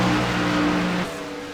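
Race cars at Michigan International Speedway roar across the start-finish line together, a loud, steady engine drone that dips slightly in pitch as the pack passes.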